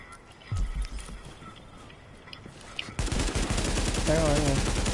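Gunfire in the video game The Division, with a dense burst of shots in the second half over a busy game soundscape and a low thump early on; a player talks over it.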